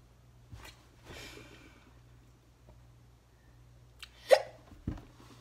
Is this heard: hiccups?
yes